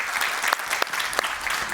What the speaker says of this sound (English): Yeah, I'll give Susie a round of applause